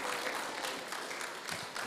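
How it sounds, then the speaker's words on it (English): Audience at a beginner-level spelling bee breaks into applause, a dense, steady patter of many hands clapping for a couple of seconds without pause. "Give them a round of applause,"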